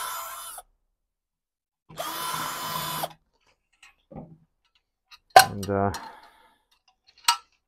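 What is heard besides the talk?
drill bit deburring a drilled hole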